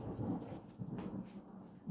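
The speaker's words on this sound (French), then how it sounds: "Vous entendez vous-même le tonnerre." Distant thunder rumbling low and continuous over a soft hiss of rain, moderately faint with no speech.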